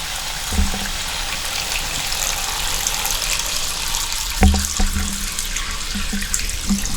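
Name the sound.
water running from a Moen tub shower faucet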